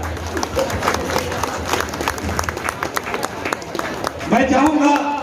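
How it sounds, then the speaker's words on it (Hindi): Audience at a Holi gathering in Danapur applauding to welcome a guest onto the stage, a sustained patter of many hands clapping with a voice speaking over it, swelling louder near the end. "हम लोग जोरदार तालियों से उनका स्वागत करेंगे"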